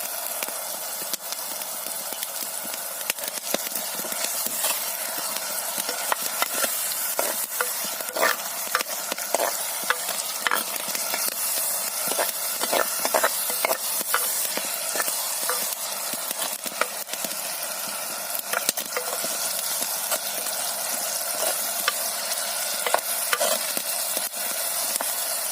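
Tomatoes sizzling and frying in a hot pan while stir-frying shrimp with kamias for a Filipino dish, a steady loud hiss with repeated stirring clicks and scrapes throughout.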